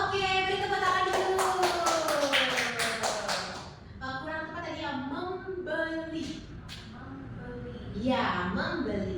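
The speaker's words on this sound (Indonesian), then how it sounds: "Oke, beri tepuk tangan dulu." A small classroom group claps in a short burst of rhythmic hand taps during an Indonesian language teaching session, with voices talking over and after the clapping.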